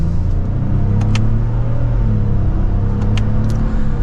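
A 2024 Lexus GX550 Premium Plus accelerating in sport mode in second gear, a loud, steady engine drone and road rumble heard from inside the cabin, with a few faint clicks over it and no talking.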